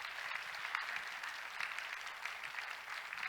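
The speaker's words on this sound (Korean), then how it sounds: "우리 박수로 뜨겁게 축복합시다" Steady audience applause fills a church hall during a donation ceremony for a children's charity in Incheon, with continuous clapping throughout and no talk over it.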